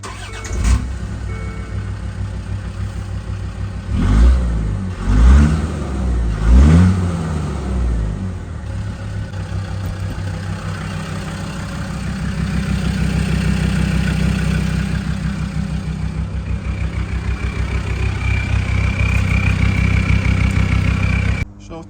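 Land Rover Discovery 2 TD5 diesel engine cranks over a few times, catches and revs briefly, then drops to a steady, close idle that runs on alone after fresh fuel filters.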